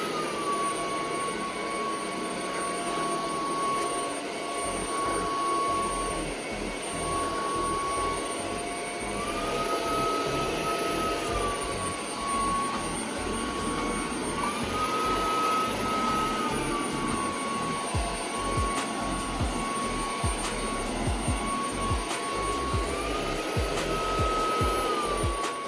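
A UWANT D100 cordless wet and dry vacuum cleaner runs steadily with a continuous whining hum and airy suction roar, its pitch shifting slightly a few times as it adjusts, with no talking.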